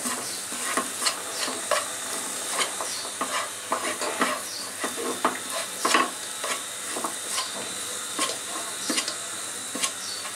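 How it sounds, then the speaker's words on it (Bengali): Chhana (cottage cheese) stirred steadily in a pan for kachagolla, a continuous close scraping of spatula against metal with a rhythmic series of knocks and a soft sizzle underneath, no talk. "এভাবে নেড়েই চলতে হবে কয়েক মিনিট"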